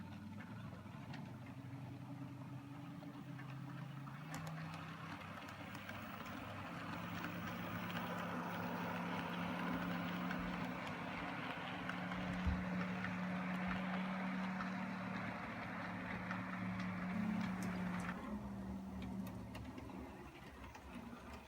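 A model train pulls away from the Georgetown station stop during a layout operating session, its steady motor hum swelling gradually and holding for about twenty seconds at a faint, continuous level with no voices.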